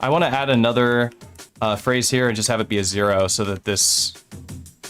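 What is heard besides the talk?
No everyday noises stand out.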